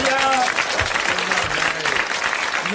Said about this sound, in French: que vous êtes en train d'applaudir